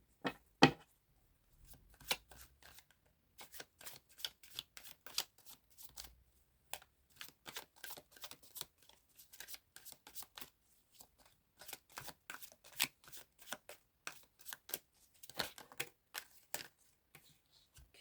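Tarot cards shuffled steadily over eighteen seconds, a close run of crisp riffling clicks and flutters in uneven bursts, heard alone with no talking.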